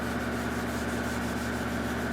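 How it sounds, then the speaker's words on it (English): A natural edge wooden bowl is sanded on a wood lathe, giving a steady, dense rubbing hiss with a faint rhythmic pulse from the spinning piece, continuous and close. "that sanding was kind of a pain in the butt, but it's done now"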